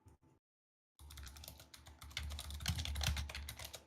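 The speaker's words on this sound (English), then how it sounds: "my keyboard's probably loud" Loud clacking of a computer keyboard being typed on rapidly, close to the microphone; a brief burst, a short silence, then a sustained stretch of dense, fast keystrokes.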